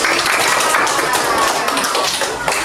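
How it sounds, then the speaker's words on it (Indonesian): A school group in a classroom applauds classmates after their presentation, a dense burst of many hands clapping close by that stays loud and steady, with children's voices mixed in underneath. "Oke, tepuk tangan buat kelompoknya"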